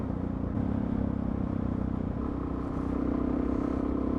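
A motorcycle engine runs in a steady, even drone, with a low throbbing hum that holds close and fairly loud throughout and shifts slightly in tone partway through. No one speaks.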